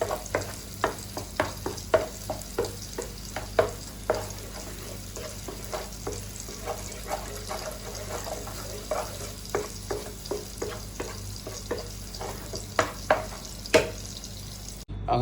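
Okra and egg thoran is stirred in a frying pan, a spoon scraping in a steady rhythm of soft strokes over a low, continuous sizzle, with no talking.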